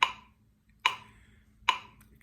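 A metronome set to 72 beats per minute clicks three times with even spacing, crisp and moderately loud in a quiet room during a music lesson.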